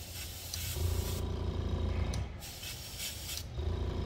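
Airbrush spraying Humbrol clear coat gives a steady close hiss in bursts, cutting off briefly twice before resuming, with a faint mechanical hum beneath.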